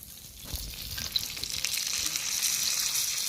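Steady, bright sizzling of something frying in a pan, a constant crackling hiss that grows slightly louder, close up with no talking.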